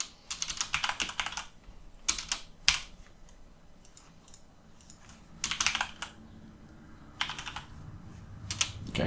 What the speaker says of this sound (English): And then there we can type in diesel.